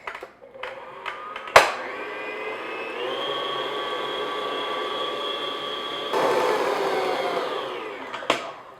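Electric mixer whipping a no-churn strawberry ice cream base, a steady loud motor whine with a few clunks at the start, rising slightly in pitch midway and ending with a knock.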